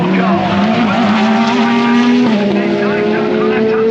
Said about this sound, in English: Is the Mustang number 16 of Felipe Fraga, the Myers Riley Motorsport car.